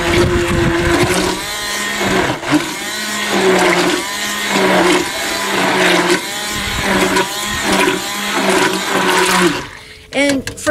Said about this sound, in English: and you just hand blender on low